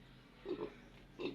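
Piglets kept as pets grunting while being fed, two or three short soft snorting oinks over a low steady background hum, close by and with no talking.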